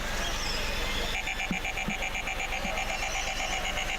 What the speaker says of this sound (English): There's the buzzer in front of us.